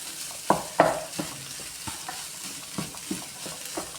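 Egg and onion masala with peas is stirred in a pan, and a spoon knocks and scrapes in a few sharp strokes over a low, continuous sizzle. No voices are heard.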